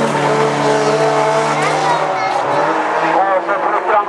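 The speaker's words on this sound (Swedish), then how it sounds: "Och så trycker han gasen i botten på väg ut här" Race car at full throttle during a Tjörn A-final, the engine roaring loud and close with rising harmonic tones while an announcer talks over it throughout.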